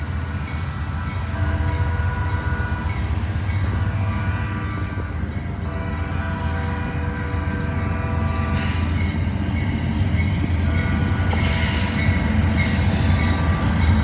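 A heavy loaded I&O rock freight train rumbles steadily past up close, wheels clattering and occasionally squealing, with a faint horn in the background.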